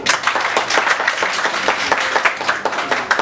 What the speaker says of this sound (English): Have a clap.